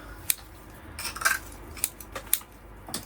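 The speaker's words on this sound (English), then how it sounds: "I'm just going to cut all this moss off" Small scissors snip moss from a cotoneaster bonsai in a round pot, a handful of sharp metallic clicks and snips spaced irregularly, close and fairly quiet, without talk.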